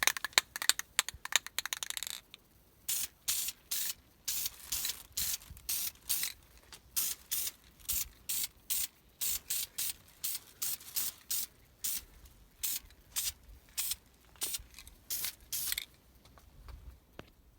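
Short, repeated hissing bursts of Duplicolor spray paint misting onto brake calipers during a second coat, each burst brief and sharp with small gaps between, close and moderately loud, no talking.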